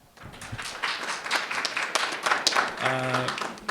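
An audience at a press conference on an apprenticeship bill breaks into applause, a dense crackle of clapping with a voice speaking over it near the end.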